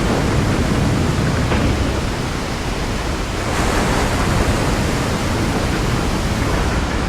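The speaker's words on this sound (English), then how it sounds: "There's the waterfall." Waterfall in the video game Resident Evil 4, a steady, loud rushing roar of falling water that holds evenly throughout with no talking.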